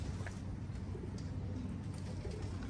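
Racing pigeons in a loft, soft low cooing from several birds close by, repeated murmuring calls over a dull background hum.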